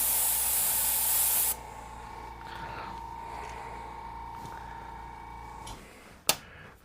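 Spray can hissing as paint goes on inside a custom lowrider-style mini hood: a loud steady spray for a second and a half, then quieter short bursts and a low background hum, ending with a sharp knock.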